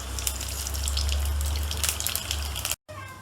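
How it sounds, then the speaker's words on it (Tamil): Whole spices are dropped into hot oil, producing a soft, steady sizzle and hiss for a few seconds before a brief cut, with no one speaking. "எண்ணெய் சூடாயிடுச்சு. நான் இப்போ எல்லா ஹோல் ஸ்பைசஸையும் ஆட் பண்ணி கொடுக்க போகிறேன்."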